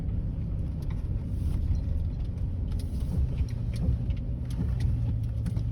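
A car with a 4L60E automatic transmission and a stuck servo and bent snap-ring drives along, its low engine and road rumble steady and close inside the cabin, with a faint jangle and no talking.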